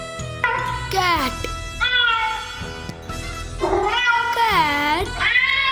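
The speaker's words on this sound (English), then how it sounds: "Cat." A cat meows several times, each call long, close and clearly pitched, with a couple of rising and falling wails over a faint low background.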